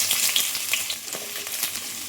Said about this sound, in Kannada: ಇದಕ್ಕೆ ಕಟ್ ಮಾಡಿದ ಈರುಳ್ಳಿ ಹಾಕ್ಕೊಳ್ತೀನಿ.